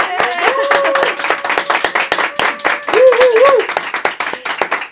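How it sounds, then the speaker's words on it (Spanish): A studio audience claps for an arriving guest, brisk crowded handclaps throughout while voices and excited cheers ring over the top, fairly close and loud. "Aplausos para Juliana."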